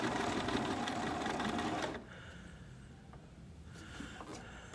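A sewing machine stitches a quilt-as-you-go minky quilt on a long stitch length, running fast and close for two seconds before dropping to a quieter, slower hum with a few light taps.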